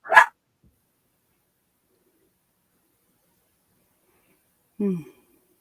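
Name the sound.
dogs barking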